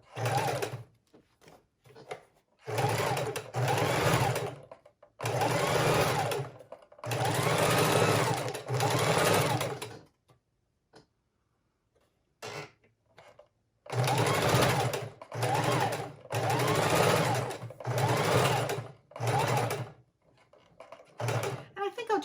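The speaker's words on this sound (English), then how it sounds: "I'm going to go along the bottom" A sewing machine runs a straight stitch along the bottom edge of a junk journal page pocket, in several steady bursts of a few seconds each, separated by short pauses.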